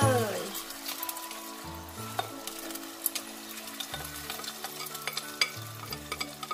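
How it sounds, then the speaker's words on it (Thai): Beaten eggs with sesbania flowers frying in hot oil, a loud crackling sizzle that eases into a steady hiss, punctuated by scattered utensil clinks and pan scrapes. "ตอนนี้น้ำมันร้อนแล้วนะคะเราก็จะมาเจียวไข่กันเลยค่ะ"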